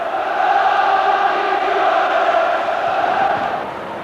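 A football crowd roars steadily at a Torquay United match in the Sherpa Van Trophy, a broad, sustained cheer with no clear breaks, fading a little at the end.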